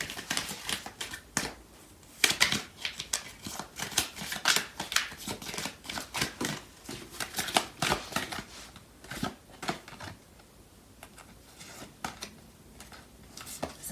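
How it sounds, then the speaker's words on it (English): Tarot cards being shuffled and pulled from the deck, heard as quiet, irregular bursts of crisp riffling and flicking close by. "I'm going to pull out some more cards."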